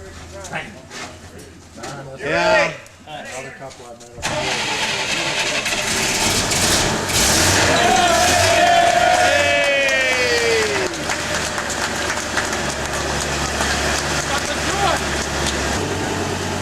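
A restored GM Futurliner's engine starts and settles into a steady, slightly fast idle, a continuous rumble that holds for over ten seconds after a burst of talk, with voices and a few outdoor sounds over it.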